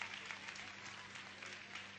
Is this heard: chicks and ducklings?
no